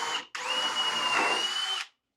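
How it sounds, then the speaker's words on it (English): A power drill bores pilot holes into plywood for an F-clamp rack. A short blip is followed by one sustained, close, loud whirring run of about a second and a half that cuts off abruptly, with no talk. "Next, I'm going to drill some pilot holes."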